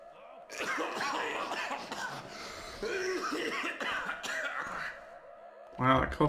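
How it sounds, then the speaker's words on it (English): A single person coughing in a Thief fan mission, Double-crossed, a harsh, wet-sounding cough that sounds unhealthy, heard close amid ambient game noise and breathy vocal sounds. "that cough sounds problematic"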